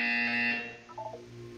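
Electronic buzzer in the game Portal: a loud harsh tone for about half a second that stops abruptly, followed by a faint hum and a few quiet electronic blips.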